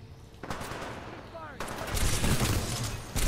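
Rapid gunfire in the first-person shooter Titanfall 2, a loud sustained stream of shots that swells after a brief pause, with a voice over it.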